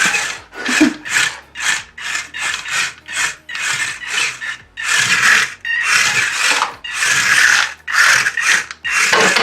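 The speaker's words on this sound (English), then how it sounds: "These are 800 and like 45 RPM motors, something like that." Small electric drive motors of a one-pound antweight combat robot spin up in repeated short bursts, a fast rasping whine starting and stopping in quick pulses, then longer sustained runs, close and loud.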